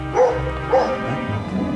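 A dog gives two short barking yips, one after another, fairly faint over a steady low background, then a soft whimpering trails off.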